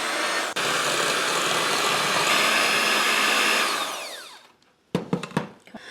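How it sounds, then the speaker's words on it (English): An electric hand mixer creams butter and brown sugar for a chestnut pound cake, a loud steady motor whine running for about four seconds before winding down, followed by a few sharp clattering knocks. "I'm going to cream it all together using our hand mixer."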